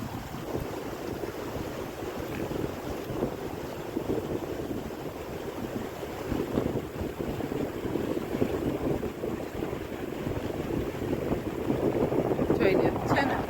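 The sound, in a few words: wind blowing outdoors on road beside flooded fields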